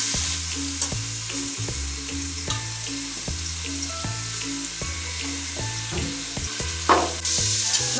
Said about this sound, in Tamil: இப்போ நம்ம கட் பண்ணி வச்சிருந்த வெங்காயத்தை அதில் போட்டுடலாம்.